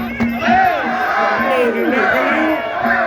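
Loud, dense crowd of many voices yelling and cheering throughout a rural Muay Thai boxing match, with a steady droning tone underneath and a commentator talking over the noise.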